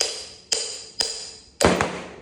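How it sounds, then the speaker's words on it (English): Three sharp metal hammer blows strike a bolt to drive out a Honda engine mount insert, spaced about half a second apart, each ringing briefly and fading, the last one heavier and close. "What I like to do is just put a bolt in through it, begin to hammer it out."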